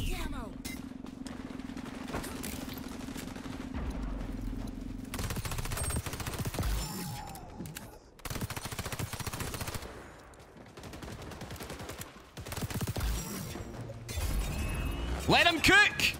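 Sustained bursts of MP7 submachine gun fire in the video game XDefiant, rapid loud rattling volleys broken by brief pauses, with excited talk over the shooting.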